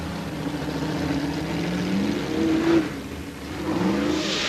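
A Formula Off-Road 4x4 truck's engine revs hard close by, rising and falling in pitch through aggressive bursts of throttle, with a wind-like rush behind it.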